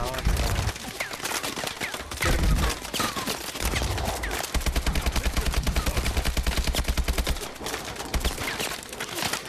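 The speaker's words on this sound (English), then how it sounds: "Being shot at." Dense, sustained automatic gunfire and bursts of shots from a Call of Duty: Advanced Warfare firefight on PS4, loud and continuous with rapid rhythmic volleys, with a voice heard intermittently beneath it.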